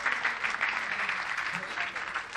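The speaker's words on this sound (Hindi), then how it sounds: "एक बार भटनागर साहब के लिए ज़रूर तालियां बजा दें।" An auditorium audience at an Engineers Club foundation day event claps steadily in a continuous, moderately loud wash of hand claps that lasts the whole span without stopping.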